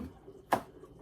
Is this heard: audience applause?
no